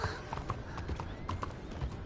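Horse hooves clip-clopping at a steady trot in a video game on PS4, fairly quiet, with a faint whinny.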